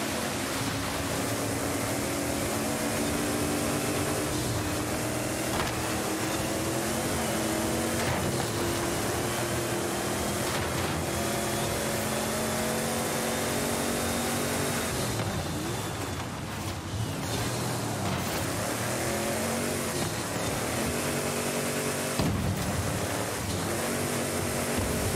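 Steady engine drone and rumbling tire noise from the Warthog Titan driving cross country in Forza Horizon 5, a continuous mid-level roar with shifting pitch as it travels over rough terrain, no talking.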